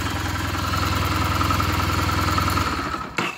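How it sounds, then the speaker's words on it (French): A Kawasaki W800 motorcycle engine idles steadily with a low, even rumble, then cuts off abruptly near the end. "on arrive à mieux distinguer les petits ronronnements du moteur"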